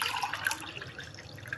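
About one and a half glasses of water pour into a pot for Ayurvedic adulsa kadha, a brief, soft splashing stream alone without talk.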